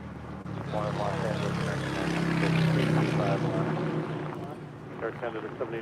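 An Air Canada airliner from Toronto lands on runway 25 left at Los Angeles airport, its engine roar building and easing off while radio talk plays over it.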